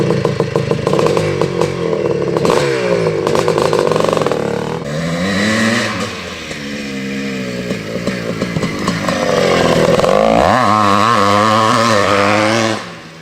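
A 1983 Honda CR480R dirt bike engine runs loud and close, revving hard in repeated rising bursts with a rough two-stroke rattle, dipping briefly between throttle blips before climbing again.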